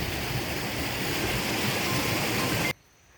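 A stream runs beside a cardamom plantation plot in Idukki, Kerala, making a steady, broad rushing of water that cuts off abruptly near the end.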